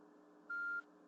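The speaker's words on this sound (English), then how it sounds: "Sorry, that's my phone." A mobile phone lets out a single short electronic beep, clear and steady for about a third of a second over a quiet hum in a room during an online Pokémon tournament match.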